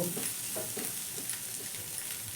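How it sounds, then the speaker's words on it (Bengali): Egg bhujia with mixed vegetables being stirred in a frying pan, a soft steady sizzle with light scraping and stirring strokes throughout, close and fairly quiet with no talking. "এখন ডিমের ভুজিয়া একদম তৈরি সবজির সঙ্গে এবার নাড়াচাড়া করে সব কিছু ভালো করে মিশিয়ে নেব"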